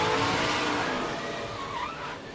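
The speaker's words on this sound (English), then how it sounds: "Vince, when you hear that engine rev up, Regan, you'll attest, right?" A NASCAR truck's engine screams hard in a race crash sequence, a loud, close, high-pitched rev that wavers and slowly tapers, with tire squeal and roaring mixed in.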